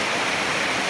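Floodwater pouring through a flooded house in a steady, dense rushing wash, loud and continuous with no pauses and no voices.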